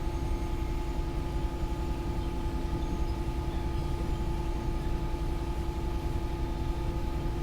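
A freight train on the Felixstowe North to Tinsley intermodal route in the Train Sim World 4 game rumbles steadily with a low drone and a constant tonal engine hum, unbroken throughout.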